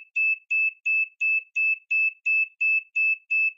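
An electronic buzzer driven by a homemade oscillator beeps in a steady, even rhythm, about ten identical short tones in a row, clean and close with silence between them.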